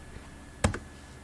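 A command typed on a computer keyboard in an Ubuntu terminal: a couple of quick, close key clicks standing out against a steady background hum.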